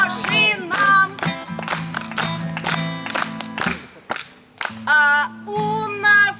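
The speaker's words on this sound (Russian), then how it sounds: "Лучше по-хорошему хлопайте в ладоши нам." Clapping along in time from a camp concert audience, regular hand claps sitting under loud group singing, close and continuous through the song.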